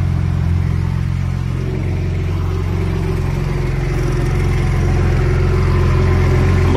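A Porsche 996 engine is held at high revs, giving a loud, steady, close roar with a deep rumble that stays constant throughout.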